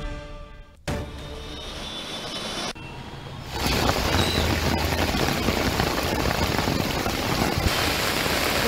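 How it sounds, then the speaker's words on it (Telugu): After a few abrupt cuts, a loud, dense roar of heavy rain in Hyderabad fills the scene and holds steady to the end. "హైదరాబాద్ లో భారీగా వర్షాలు పడుతూ ఉన్నాయి."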